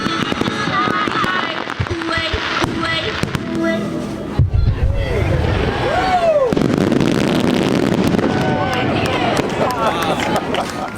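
A fireworks show at the Oshkosh AirVenture air show pops and crackles with scattered bangs and whistling bursts, heard under ongoing narration and a murmuring crowd.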